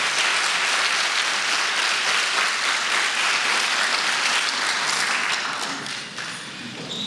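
Sustained applause from a university audience at a political speech, dense and steady throughout, easing slightly toward the end with no talk over it.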